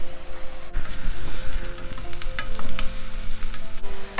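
Salted onions fry in a pan for spicy spinach fried rice, with a constant close sizzle, crackling pops and occasional utensil clatter over a low steady hum.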